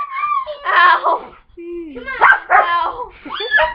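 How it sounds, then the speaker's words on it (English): A puppy barks and yips in short high-pitched bursts, close by, three separate outbursts with brief gaps between them, alongside some whimpering and playful giggling sounds. "Hey, don't abuse my puppy."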